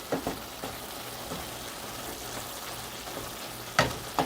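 Chopped ginger and garlic are stirred into keema frying in a pan, with a low, steady sizzle under scattered scrapes and knocks of a spoon, plus a sharper clatter toward the end, close by and with no voices.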